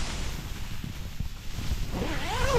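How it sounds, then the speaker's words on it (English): Wind gusts buffet a tent pitched on a mountain during a snowstorm, a rough, steady rushing roar with some flapping, building slightly toward the end. "Sounds windy out, but I haven't put my head out."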